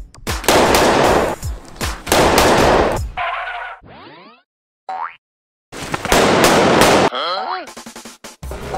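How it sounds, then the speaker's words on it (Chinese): Gunfire on a film set, loud dense bursts of shots in several volleys, separated by gaps with whistling, sweeping tones and near silence. "然后就你这边开枪"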